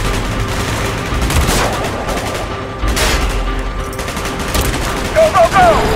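Gunfire in Call of Duty: Black Ops: loud, rapid bursts of automatic shots and booms crowd the scene, with voices speaking amid the shooting and a few sharp ricochet-like whines near the end.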